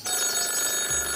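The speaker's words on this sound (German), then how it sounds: "klingelt ständig das Telefon" Telephone bell ringing in a German satire program, a continuous, bright electronic trill sounding alone and fairly loud for about a second.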